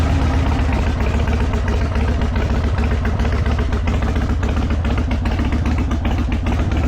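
A Yamaha 1700 engine idles with a steady, low, rumbling throb and light mechanical clatter, loud and close, running evenly throughout with no talk.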